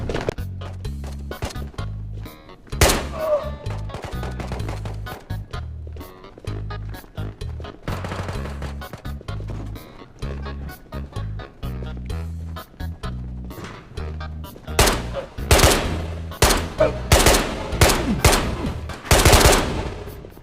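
Gunfire in the VR shooter Ghost of Tabor, repeated single shots and rapid automatic bursts at varying distances, growing denser and louder toward the end, with clattering movement between them.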